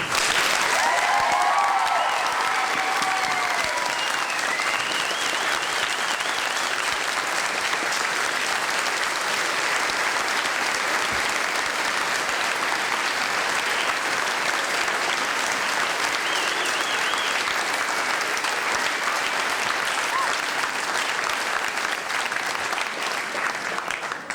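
Sustained audience applause after a school performance of The Pirates of Penzance, dense and loud clapping that continues evenly for over twenty seconds with a few cheers at the start.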